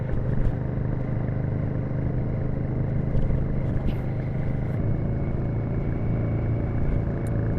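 Royal Enfield Shotgun 650 motorcycle riding along, a steady low engine drone with wind rush, continuous and fairly loud with no clear changes in pace.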